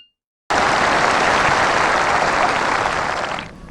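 Dense, loud applause from a large audience at a presidential victory speech, a continuous roar of clapping that starts abruptly and tapers off at the end.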